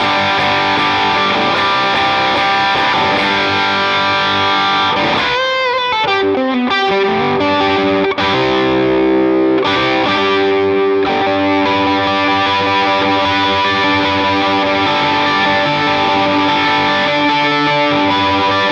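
Humbucker electric guitar played through a worship-style effects preset, loud and sustained with distortion and shimmering chorus, a bright swell of sliding notes midway, then ringing held chords alone.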